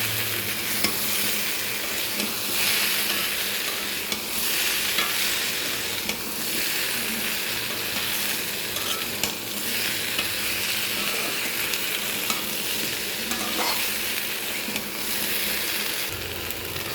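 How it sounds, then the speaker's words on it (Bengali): Eggplant and other vegetables fry in a pan for a fish curry while being stirred, giving a continuous loud sizzle with regular scraping strokes of the spoon throughout. "এরপর একটু নাড়া দিব"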